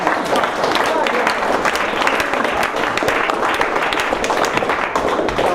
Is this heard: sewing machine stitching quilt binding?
no